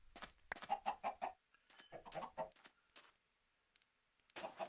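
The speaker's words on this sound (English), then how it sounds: "Look at all those chickens." Chickens in the survival game Forever Stranded cluck in a quick run of bright, repeated calls, then a second cluster and a later burst, fairly close and clear against near silence.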